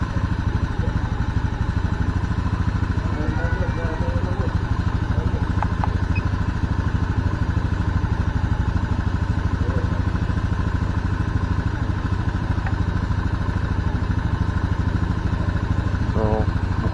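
Honda Scoopy PGM-FI scooter engine running steadily close by, a loud continuous buzzing idle with a fitted K25 Beat FI coil, brief throttle blips lifting the pitch while a voice talks over it.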